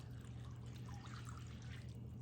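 Dressing poured over shredded cabbage in a bowl, a faint, steady liquid trickle lasting a couple of seconds over a low hum, with no talking.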